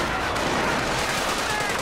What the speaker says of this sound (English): the machine gun was trying to suppress him